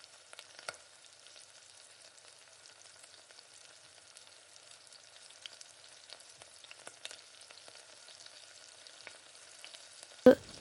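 Raw plantain cooks in a pan with a faint, quiet sizzle, broken by occasional soft scrapes and taps from stirring and one louder clink near the end.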